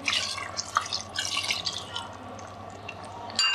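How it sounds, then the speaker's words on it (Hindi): Two cups of water poured into a pot of chicken biryani with tamarind juice, a close, steady splashing pour running continuously, then a brief louder clatter at the end. "अब हम इसमें 2 कप पानी डालेंगे"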